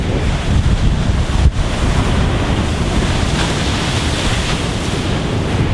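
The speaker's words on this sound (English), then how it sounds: "Giant waves crashing behind me" Giant ocean waves crash on a shore in a loud, continuous roar of surf, mixed with heavy wind buffeting the microphone and no voices.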